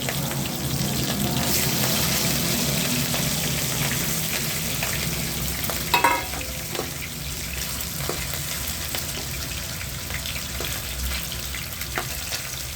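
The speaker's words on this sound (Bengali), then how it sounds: "আমি এবারে মাছটা ভেজে নেব" Katla fish pieces shallow-frying in oil for doi katla, a loud continuous sizzle with a brief clatter midway as the fish is handled, no talking.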